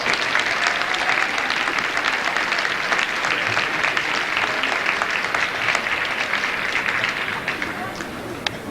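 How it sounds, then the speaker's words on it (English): Loud, dense applause fills a school gym at a marching band concert, a sustained wash of many hands clapping that tapers slightly toward the end, with crowd murmur mixed in. "Let's give him a round of applause"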